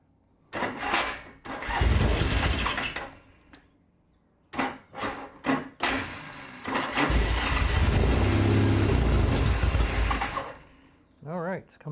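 A Norton motorcycle engine coughs and fires in a few short bursts, then catches and runs rough and loud for several seconds before faltering, with a voice speaking nearby.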